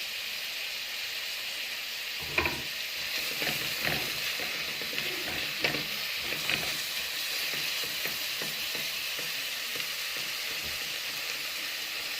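Okra sautés in a frying pan with a continuous bright sizzle, punctuated by clicks and scrapes of a spoon stirring, close and fairly loud throughout.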